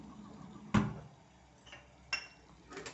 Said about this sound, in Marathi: ताटली बाहेर काढूया थंड व्हायला